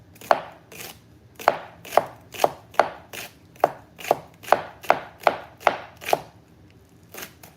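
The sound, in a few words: chopping onion thinly with a knife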